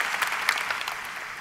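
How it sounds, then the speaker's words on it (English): Crowd at a high school graduation ceremony applauding faculty and staff, a brief, loud, dense burst of clapping filling the whole moment without voices. "acknowledge the faculty and staff of Travis High School with a big round of applause as well"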